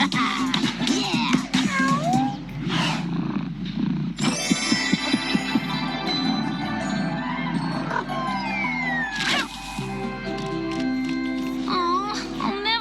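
A cartoon cat meows repeatedly in varied, drawn-out calls while lively background music plays and occasional character voices speak around it.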